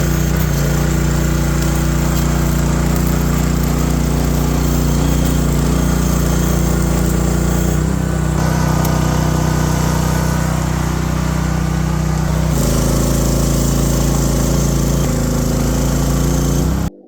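A Philking PK160A inverter welding generator's small engine runs steadily and loudly up close for the whole stretch, its note shifting slightly a couple of times under changing load before cutting off at the end.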